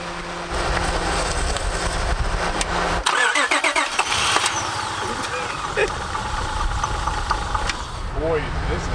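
A misfiring, overheating car engine runs with rough, uneven knocking and sputtering, cutting out briefly before chugging on, with people talking over it.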